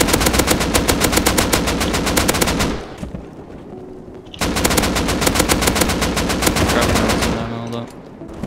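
AK rifle fire in the video game Rust rattles out in two long, rapid full-auto bursts of sharp, loud shots, separated by a short pause, with a faint voice under the second burst.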